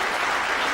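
Steady, loud applause with cheering from the arena crowd at the 1998 World Snooker Championship first-round match, continuous for the whole short moment with no talk over it.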